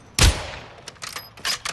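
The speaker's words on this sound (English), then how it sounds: "I just shot at one of them." Gunfire in a first-person shooter game as the player fires at an enemy bot: one loud, close blast followed by several quicker, fainter bursts.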